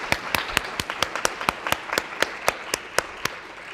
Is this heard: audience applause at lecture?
yes